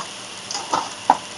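Hot rice noodle and vegetable mix seasoned with paprika and curry powder being stirred in a pan, with a few close scraping strokes over a soft sizzle.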